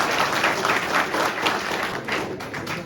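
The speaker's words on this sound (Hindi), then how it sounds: "एक बार जोरदार तालियां प्लीज" Audience applause at a memorial-day poetry and recitation event in Bikaner, steady dense clapping from a crowd throughout, fairly close and even in loudness.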